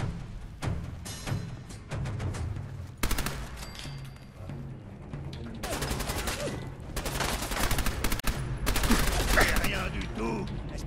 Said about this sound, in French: Tu te prends une mitraillette.